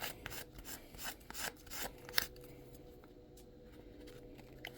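Burnt sand is scraped off the charred wooden side of a metal-casting flask, giving repeated rough rasping strokes for about two seconds, then a quieter stretch.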